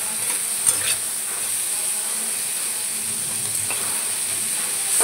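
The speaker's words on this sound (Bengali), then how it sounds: "এখন উচ্ছেগুলো একটু লাল করে ভেজে নেব।" Bitter gourd slices frying in a pan with turmeric, giving a steady close sizzle with occasional stirring scrapes, no voices.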